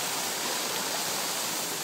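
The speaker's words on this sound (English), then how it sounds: "We got the waterfall." A waterfall at the front entrance of a house gives off a steady, even hiss of falling water, close and constant with no other sounds.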